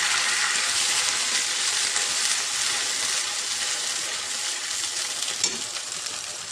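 Water poured into a hot pan of spices sets off a loud, steady, close sizzle and hiss that fades slightly over several seconds, with no talking.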